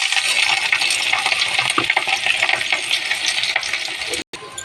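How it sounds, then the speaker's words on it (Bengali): Chopped onions sizzling in hot oil with panch phoron and chilies, a dense continuous crackle and hiss throughout, close and loud, with scattered pops and a brief sharp cutoff near the end. "এবারে দেব পেঁয়াজ কুচিগুলো।"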